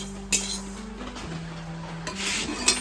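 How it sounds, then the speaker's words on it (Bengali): Cooking pots, pans and utensils are shifted and stacked aside on a home kitchen counter, giving scraping, rubbing clatter with a few sharp clanks, close and moderately loud with no talking. "বাসনগুলো আমি একদম গুটিয়ে রেখে দিলাম যাতে জায়গাটা আর একটু ফাঁকা হয়"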